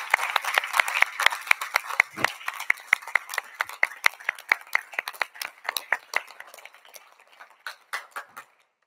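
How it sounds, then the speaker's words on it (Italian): An audience applauds the film's director and screenwriter at a screening event, with steady clapping that starts dense and thins into scattered individual claps toward the end, moderately close. "un grande applauso alla regista, alla sceneggiatrice, l'avvocato Chiara Padovani"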